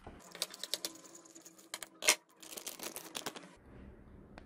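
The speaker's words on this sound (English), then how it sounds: "I'll go ahead and cut this bag open." A plastic bag holding a 300 g Australian Wagyu striploin, marbling score 7-9, is cut open with crisp crinkling, tearing and clicking, one sharp louder snip midway, close and fairly quiet with no talk.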